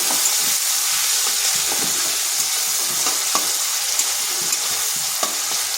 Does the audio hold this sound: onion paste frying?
yes